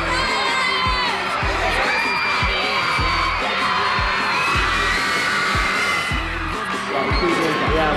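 Hundreds of idol fans cheer and scream at a Singapore Idol live show, a loud dense roar of shouting and whooping over rhythmic thumping beats, continuous throughout.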